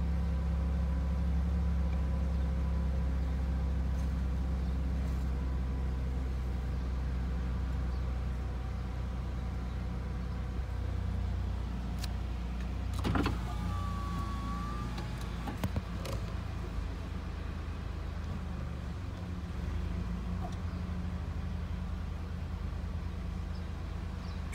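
A 2008 Dodge Caravan engine runs at a steady high idle after start-up, a constant low drone with a few faint clicks and a brief whine partway through.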